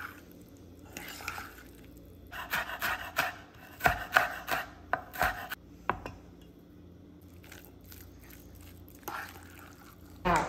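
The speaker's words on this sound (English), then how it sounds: "I'm just going to dice up the egg whites" Knife dicing cooked egg whites on a cutting board, a run of quick, close chopping taps in short bursts with a few louder knocks against a quiet kitchen background.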